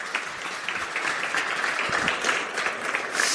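Steady audience applause at a corporate tech day event, continuous dense clapping of moderate loudness from a large crowd, no speech over it.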